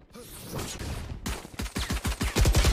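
Rapid gunfire in Valorant, a burst of shots growing into a steady rhythmic string of loud, close reports toward the end, with no talk over it.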